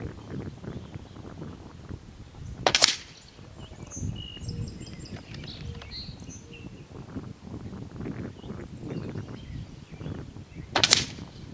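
A regulated PCP airgun fires two sharp, short shots several seconds apart over a quiet background of outdoor noise.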